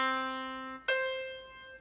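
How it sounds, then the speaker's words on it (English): Two sustained notes an octave apart, C4 then C5, each a clear steady tone played alone in sequence, the lower held just under a second before the higher one sounds and fades. "You can recognize this sound if the notes sound the same, except if one is higher than the other."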